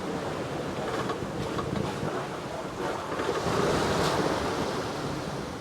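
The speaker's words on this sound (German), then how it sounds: "Wir haben um die 10 Knoten Wind, manchmal 14." Wind in the ninety-to-fourteen-knot range... correction: steady wind of about 10 to 14 knots rushes continuously while waves wash against a sailing yacht at sea between Portugal and Porto Santo, loud and close throughout.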